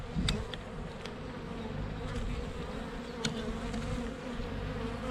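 Honeybees hum steadily during the season's first hive inspection, a continuous close drone with a few brief louder passes from single bees.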